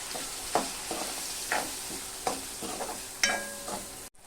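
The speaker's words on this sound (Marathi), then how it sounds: "1 चमचा काळा मसाला. व्यवस्थित परतून घ्यायचं आहे." Black masala with red chilli powder sautéing in a pan for an ivy gourd bhaji: a steady close sizzle broken by about five scraping spoon strokes at a loose, regular rhythm, ending abruptly.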